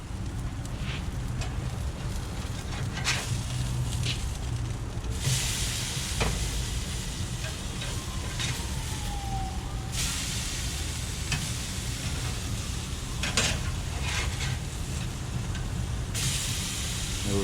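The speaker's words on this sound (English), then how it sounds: "So let's go ahead and give them a flip." Basa fish fillets sizzle steadily on a Kamado grill, a close, continuous frying hiss with sharper bursts of crackle as the fillets are flipped, no talking.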